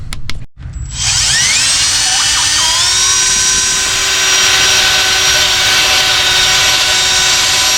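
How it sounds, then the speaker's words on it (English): Power drill boring out holes in a truck firewall during an LS engine swap on a '94 OBS truck; a loud, steady whine that ramps up after a brief start and holds continuously with rising pitch. "looks like we're drilling these holes out a little bit"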